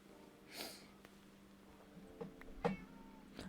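A pet cat in a Minecraft-style survival video game gives a faint, short meow at night, followed by a couple of soft sniffing or snorting sounds over a quiet background.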